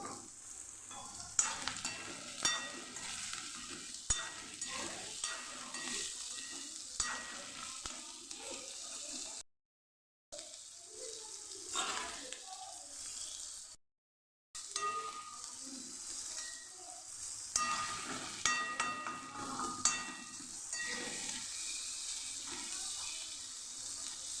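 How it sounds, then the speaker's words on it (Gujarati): Sliced onions with salt sauté in a hot pan, sizzling steadily while a spoon scrapes and stirs them in repeated close strokes. The sound cuts out twice briefly. "ડુંગળીનો કલર બદલાઈ જાય ત્યાં સુધી આપણે એને સાતળવાની છે"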